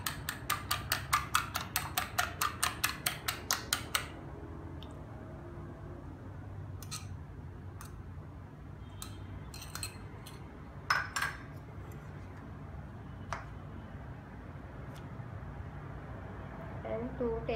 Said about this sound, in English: Beat the egg and add to the egg.